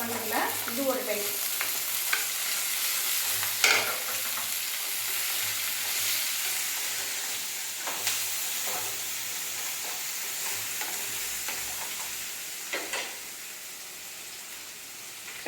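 Green plantain pieces stir-fried in a pan for a plantain fry, a steady close sizzle with scraping stirs and occasional sharper pops, no talking over it.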